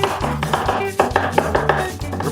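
A sharp TopFeel 8-inch chef knife chops a bunched ball of cilantro on a cutting board, a loud, fast run of close, evenly spaced thuds and taps.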